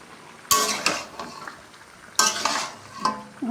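Meat is stirred in a large pot for a festive fried dish, two loud scraping strokes of a utensil against metal about two seconds apart, each trailing off into soft sizzling.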